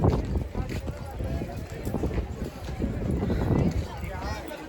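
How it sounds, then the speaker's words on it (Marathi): Horses walk along the crowded Mall Road in Kufri near Shimla, their hooves making uneven clip-clop knocks amid a bustling tourist crowd, with people talking nearby throughout. "इथे जावं ते घोडे आहेत."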